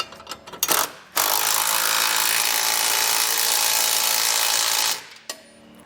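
A 3/4 inch socket and wrench snugs down hardware on a Roadmaster crossbar-style base plate on a 2023 vehicle, producing one loud, continuous, rasping run of about four seconds, close by, with brief knocks before and after.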